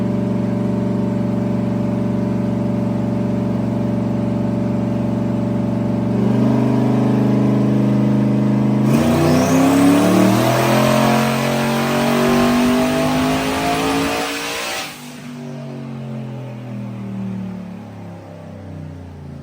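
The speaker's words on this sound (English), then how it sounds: "Got the GTO tuned, clip dyno pull here." A tuned Pontiac GTO making roughly 750 horsepower runs a dyno pull. The engine idles loudly, climbs into a hard, smooth rev with rising pitch, holds near the top, then drops back to a lower idle, all very close and with no talking.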